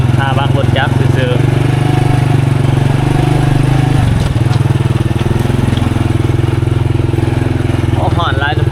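A motorcycle rides along a shortcut path on a river island in southern Laos, its engine droning steadily and close, with a short dip in revs midway and faint chirps in the background.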